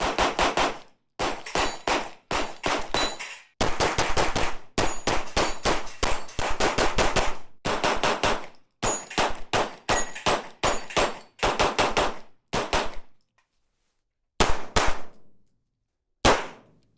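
VKTR Industries VKP Pro double-stack 1911 pistol fired in rapid bursts, loud sharp shots in quick strings separated by brief pauses, ending with a few more spaced shots after a gap.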